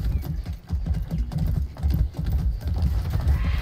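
Horse hooves clip-clop at a steady trot in the video game Far Cry 6. The rhythmic footfalls are close and continuous, with light background ambience.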